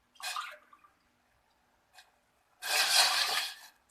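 Water, two and a half cups, goes into a pot on a hot gas stove for a jaggery kadha: a short splash first, a faint clink, then a louder, sustained rushing pour that fades out, otherwise quiet.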